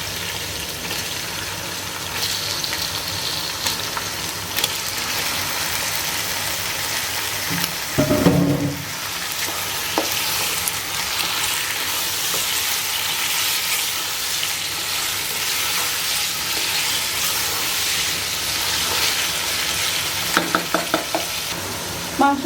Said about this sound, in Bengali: মাংসটা আমার ভাজা হয়ে গেছে